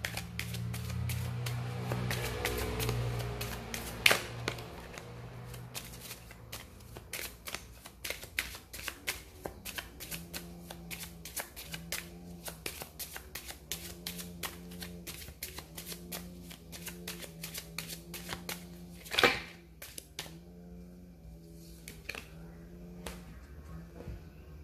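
Cards being shuffled for a card reading, a long run of rapid riffling and soft flicks at close range, with a few sharper snaps along the way and no voices.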